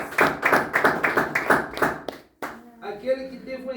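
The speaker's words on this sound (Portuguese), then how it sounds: "Bate palmas para a gente." A church congregation claps in quick rhythmic bursts for about two seconds, loud and close, then the clapping stops and musical tones take over.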